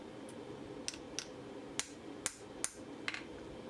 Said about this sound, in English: Not very heavy hammer blows,